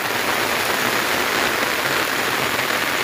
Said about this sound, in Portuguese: estamos aqui esperando a chuva passar